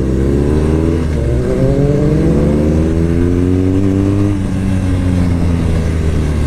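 A 2022 BMW R nineT Pure motorcycle engine accelerates hard and close, its deep note rising in pitch, dropping at a gear change, then climbing again before another shift.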